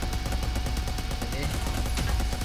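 Rapid gunfire from the video game Cyber Hunter, a continuous stream of shots with a steady automatic rhythm, loud and close, without talk over it.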